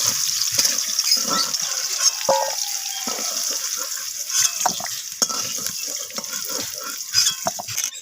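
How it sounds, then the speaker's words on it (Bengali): Potato pieces fry in hot oil, the sizzle steady and moderate beneath repeated stirring and scraping clicks throughout. "আলুগুলো নাড়াচাড়া করে আমি ভেজে নেব লালচে করে"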